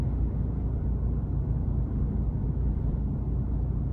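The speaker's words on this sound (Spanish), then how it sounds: "cómo se escucha el generador de gasolina dentro del coche" Gasoline range-extender generator of a BMW i3 REx heard from inside the car while driving, a steady low rumble and hum that stays constant throughout.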